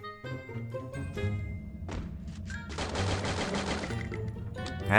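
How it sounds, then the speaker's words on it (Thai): Enemy gunfire in the Free Fire battle royale game: rapid bursts of shots crack over a steady backdrop of game music and ambience, growing denser and louder toward the end. "เมื่อกี้มันยิงเฉียดหัวเลย"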